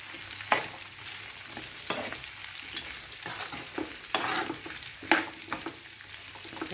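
Ingredients fry in a pan until golden brown with a soft continuous sizzle, broken by sharp periodic scrapes and clacks of a spoon stirring, close and fairly quiet.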